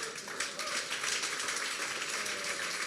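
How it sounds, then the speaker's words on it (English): Audience applause at a portfolio management presentation, dense steady clapping that fills the room for the full stretch, fairly even in loudness with no speech over it. "A round of applause."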